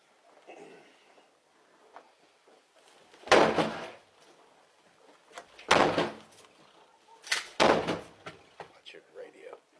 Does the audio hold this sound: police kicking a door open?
yes